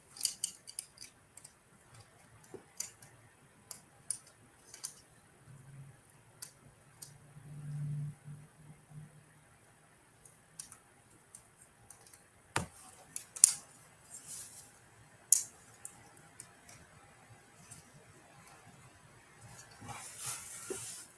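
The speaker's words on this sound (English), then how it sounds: "The snapping, clicking sound of clipping assembly." Sparse, quiet snapping and clicking of small plastic toy parts being clipped together while assembling a GI Joe speed cycle, scattered irregular clicks with a few sharper snaps and faint rustling between them.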